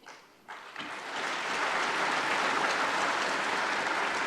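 Applause swells quickly from a few claps into steady, loud clapping from a large crowd that keeps going.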